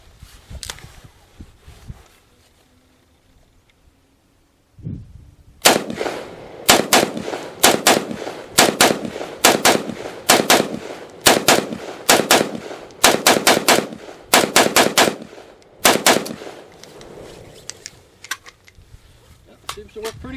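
C93 Sporter rifle fired at an outdoor range, starting after a quiet stretch with some handling noise, then a long series of loud, sharp shots in quick strings with short pauses between groups.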